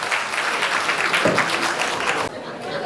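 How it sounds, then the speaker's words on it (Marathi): A college audience at a road safety awareness event breaks into dense, loud clapping that fills the room, fading slightly near the end, with faint voices mixed in. "चला जोरदार टाळ्या आजच्या जम्प पिढीसाठी"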